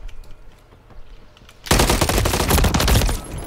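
Rapid automatic gunfire in a first-person shooter video game map bursts in loud and sustained after a quieter opening stretch, a dense, continuous rattle of shots with no talk.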